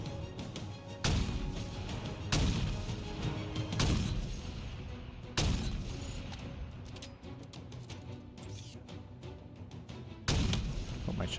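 Heavy, booming gunshots in a Halo game, single loud reports spaced a second or two apart over a steady rumble of battle, with little talk.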